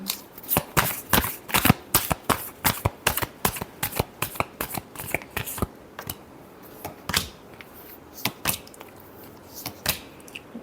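Tarot cards are shuffled in a steady run of crisp, rapid riffles and slaps, close and fairly loud, with short pauses between bursts and no talking.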